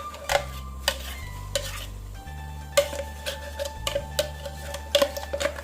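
A utensil scrapes and clinks against a hot pan as beetroot paste is stirred, with a soft sizzle and a low hum underneath. The strokes come in an irregular rhythm and sound close. No one speaks.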